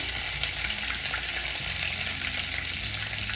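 Mustard seeds, chopped onion, coriander and bay leaf frying in hot oil for an egg curry, a loud, dense and steady crackling sizzle heard close up without talk.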